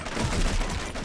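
A short burst of rapid gunfire in SWAT 4 inside a plant, dense and steady for about a second with no voices.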